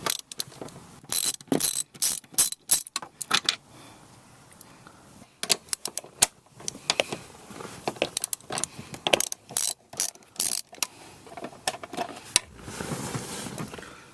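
A hand ratchet clicks rapidly in bursts, loosening E16 bolts that hold a Chevrolet or GMC front seat, the sharp pawl clatter close and loud with short pauses between runs.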